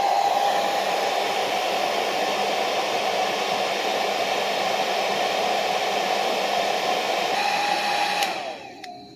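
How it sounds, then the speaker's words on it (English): A blow dryer on its low setting, powered by a Jackery Explorer 600 Plus portable power station, gives a steady, close whooshing roar that runs unchanged before cutting off and fading at the end. "So let's start with the blow dryer first."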